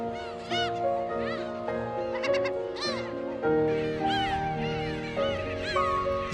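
Black-tailed gull colony calling on an island of about ten thousand nesting birds, a dense, loud chorus of overlapping mewing, cat-like cries from many birds near and far, constant throughout.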